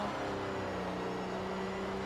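Gilly Vertigo race car in Project Motor Racing, a steady low engine hum at moderate distance holding an even drone throughout, without any voices.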